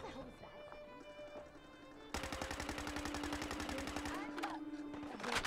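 Semi-automatic gunfire in Fallout 4, quiet at first and then a steady run of rapid, evenly spaced shots from about two seconds on, with a sustained tone beneath and a louder burst near the end.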